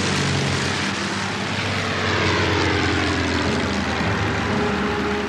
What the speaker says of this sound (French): les Berlinois vivent avec le vrombissement des avions volant à basse altitude